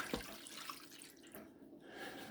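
Jar of water poured into an Emeril pressure cooker for pasta, a faint, soft trickle and splash heard close up with a brief splash near the start.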